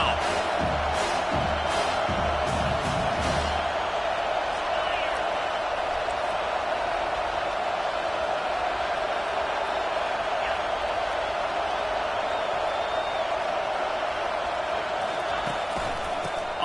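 A football stadium crowd roaring steadily, a broad, loud wash of cheering that swells and holds for the full stretch, with a play-by-play voice talking over it early on.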